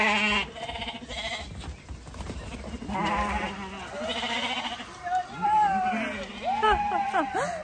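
Sheep bleat several times on a ranch in Yucatán, Mexico, ahead of Hurricane Beryl, wavering calls rising near the end, mixed with voices talking in the background.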